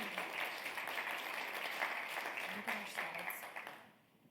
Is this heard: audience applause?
yes